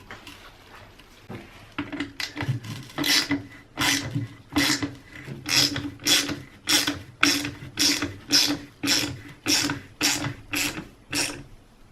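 A ratchet clicks in a steady rhythmic series of close, crisp strokes while tightening the silencer bolts on a 2-stroke exhaust after repacking.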